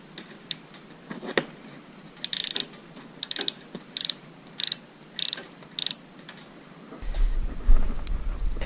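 Ratchet wrench loosening the 12mm head bolts that hold a motorcycle fuel tank, heard as several short, sharp clicking bursts in an uneven rhythm, close and fairly loud, with no talking.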